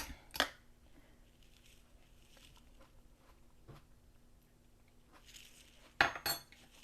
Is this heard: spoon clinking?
yes